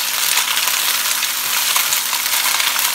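Jamonilla, a soft luncheon meat, fries in a pan and gets moved around, giving a steady, close hiss of sizzling oil with faint scraping. There are no voices.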